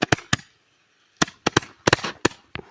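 Fireworks go off in a scattered series of sharp, loud cracks and pops, a few spaced apart, then a quick cluster of bursts, with no talking.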